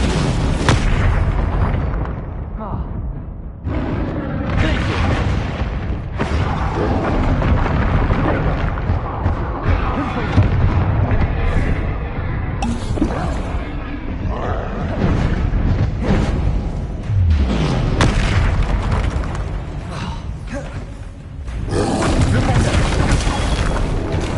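Confringo spell blasts in Hogwarts Legacy: repeated loud, booming explosive bursts with rumbling tails, separated by short pauses, mixed with other combat effects and a person speaking and calling out over the action.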